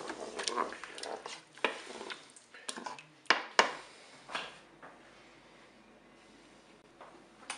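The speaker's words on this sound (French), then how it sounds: "Je mélange tout ça." Food being stirred in a Cookeo pot, with scraping and knocking of a utensil in irregular strokes, close and fairly quiet, fading toward the end.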